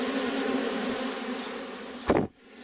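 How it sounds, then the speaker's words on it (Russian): Bees buzz steadily and densely around an old rotting wooden fence outdoors, and one flies close past near the end, with no one speaking. "это, кстати, мои пчелы жужжат"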